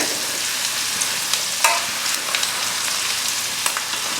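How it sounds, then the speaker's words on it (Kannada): Spices fry in hot oil in a pan for a puri-based seasoning dish, a continuous close crackling sizzle with occasional faint taps of stirring and no voices. "ಚೆನ್ನಾಗಿ ಫ್ರೈ ಆಗಲಿ"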